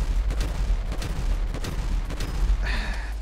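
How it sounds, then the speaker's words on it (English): Gunfire in GTA 5 crackles as a dense, continuous stream of booming shots through a busy game mix, with a brighter burst of noise near the end. "Shoot the gun!"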